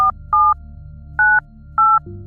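A phone keypad beeps out dual-tone dialing, four short evenly spaced tones rising clearly above a low background hum, sounding close and distinct.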